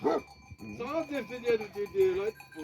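A dog on a livestock farm, about to be given a vaccine injection, lets out drawn-out, wavering yelps and howl-like whines close by, in several connected bursts.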